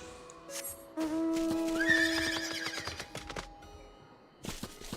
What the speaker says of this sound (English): I got the horse this time.